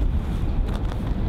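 Wind blows across an outdoor winter disc golf course, a steady low rumbling buffet against the microphone with no other clear sounds.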